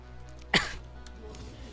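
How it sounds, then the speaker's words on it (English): A single short cough bursts out once, fairly close and loud, followed by quiet room background. "I just want this cough to go away."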